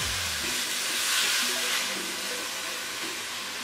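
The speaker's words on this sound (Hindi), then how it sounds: "अब हम चिकन को फ्राई करेंगे तकरीबन 4 से 5 मिनट।" Chicken, just added to a pan for a stuffed karela and chicken keema dish, frying with a steady, close, broad sizzling hiss that swells briefly and then holds level throughout.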